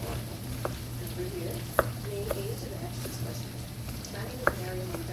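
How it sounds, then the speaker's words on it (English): Onions sautéing in a pan for baked beans, a soft steady sizzle with a few sharp clicks of a utensil against the pan, faint and close, with quiet talking underneath. "when you saute the onions"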